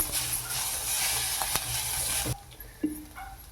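Grated coconut frying in a pan for a bottle gourd kola urundai, a steady close sizzle that cuts off abruptly partway, leaving faint kitchen rustle and a single soft knock.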